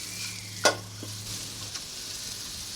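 Turkey stir-fry hisses in a wok over a rocket stove, a continuous close sizzle with one sharp metallic clank of a utensil early on and a lighter tap later, steady throughout, no voices.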